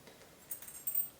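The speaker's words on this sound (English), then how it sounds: "I'm gonna start inserting the keys" Metal keys and washers click and jingle faintly as they are handled and fitted onto a leather key organizer, with a few brief close taps and no talk.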